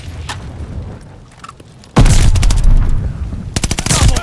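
A DP27 light machine gun fires in Call of Duty: Vanguard on the Demyansk map. After a quieter stretch, loud rapid automatic bursts hammer out close by, pause briefly, then return in another fast string.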